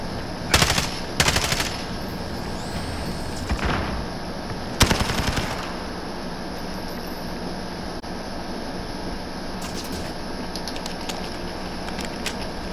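Call of Duty Modern Warfare gunfire comes in three short rapid automatic bursts spread across the clip, sharp and loud against a low background game hum.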